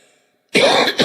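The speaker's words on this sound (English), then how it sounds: "I hope this doesn't last too much longer, the cough I'm talking about" A sudden cough bursts out after a moment of near silence, a harsh, loud hack followed by a second shorter cough, close and alone with no talking.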